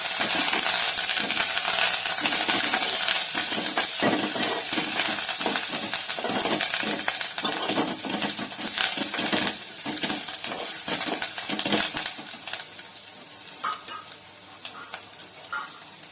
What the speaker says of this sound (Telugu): తర్వాత ఎండుమిర్చి, కరివేపాకు, ఈ అన్నిటిని ఫ్రై చేసేస్తున్నాను